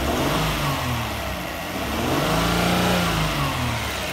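Engine of a '99 Toyota Avalon revving as throttle is applied, a loud nearby mid-pitched drone that rises and falls through the revs without any talk.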